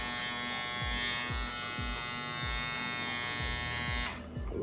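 A Kemei KM-2024 electric shaver runs with a faint, steady buzzing hum that is heard alone and cuts off near the end, with soft rhythmic thumps underneath.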